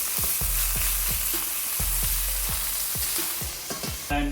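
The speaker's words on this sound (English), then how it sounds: "We're gonna get the ground beef stirred up a little bit." Ground beef and banana sizzle loudly in a hot pan, a continuous frying hiss broken by regular scraping thumps of a utensil stirring, close up, with a clatter at the end.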